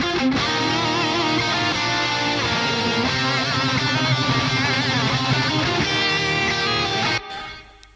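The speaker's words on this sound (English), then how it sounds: "the guitars sound like this together" Several distorted electric guitar tracks from a live metal song play together in a dense, loud, sustained wall of sound with reverb and delay, stopping abruptly near the end.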